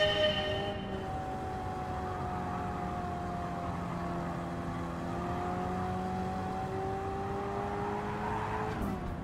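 A small Japanese car in the racing video game Gran Turismo 7 drones with a continuous, moderately loud engine note that rises and falls gently through the revs, heard alone without talk.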